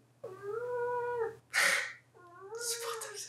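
A cat meows close by: a long drawn-out meow, a sharp breathy hiss or snarl, then a second wavering meow that ends in another harsh burst, all against a low steady hum.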